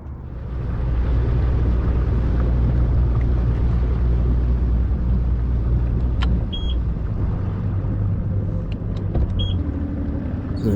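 A fishing boat's outboard motor idles in a steady low rumble as it eases into shallow water, a continuous near drone with faint higher ticks and no talk.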